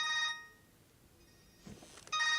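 A telephone rings in a tense scene from the 2006 film The Departed: two electronic ring bursts separated by a long pause, with a faint rustle just before the second ring, no voices.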